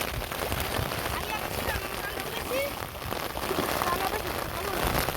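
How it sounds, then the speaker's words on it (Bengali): Heavy rain pours steadily and densely outdoors near a fishing spot, a loud continuous wash of drops on surfaces with faint voices in the background. "এ প্রচুর বৃষ্টি হইতেছে রে।"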